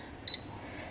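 Two quick high beeps in close succession from an air fryer as its timer is set, clear and near against a quiet room.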